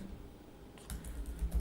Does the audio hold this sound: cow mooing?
no